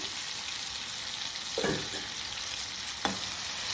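Chicken frying in a pan, a constant close sizzle with two brief scraping stirs of a spoon against the pan partway through.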